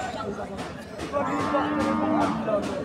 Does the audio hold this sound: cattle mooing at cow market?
yes